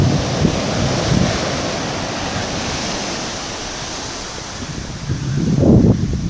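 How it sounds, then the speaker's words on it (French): Ocean waves roll and break on the beach at Saint-Paul, Réunion, a steady close wash of surf with swelling crashes near the start and end, no voices. "J'ai roulé dans la vague là, qui remonte assez haut par ici."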